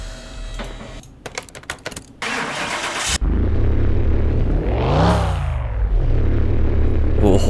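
A restored 1970s BMW engine in a video game cranks and catches, settling into a loud, steady idle with a brief rev, preceded by clicks and clattery mechanical noises.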